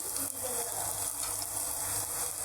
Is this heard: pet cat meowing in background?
no